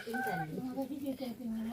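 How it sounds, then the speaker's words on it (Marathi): Chickens and roosters cluck in a close, continuous run of warbling, tonal calls that rise and fall with short breaks. "यांच्याकडे असे कोंबडे पण आहेत"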